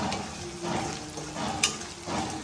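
Raw prawn curry with sesame flour is stirred in a hot pan, a soft continuous sizzle under gentle scraping strokes, with a brief clink of utensil against metal.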